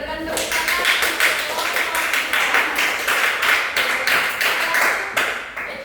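A class claps for a group of students during a microteaching session: dense, steady clapping from many hands that carries on for several seconds, fairly close, with a voice speaking over it.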